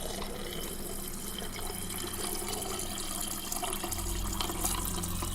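Water runs steadily from a tap in a game scene inside a hospital, a soft, constant stream that stays fairly quiet throughout, with a slight low swell near the end. No one speaks.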